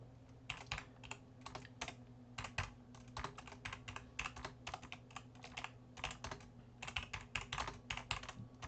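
Rapid bursts of keystrokes on a computer keyboard, close and fairly quiet, coming in short uneven runs with brief pauses over a low background hum.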